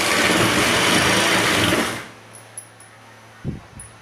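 Sewing machine stitching boat neck kurti fabric, a loud steady whirring run of about two seconds that stops abruptly, followed by a low hum and a few soft thumps of handling.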